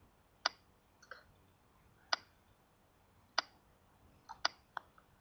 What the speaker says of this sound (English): Click OK to save the task flow.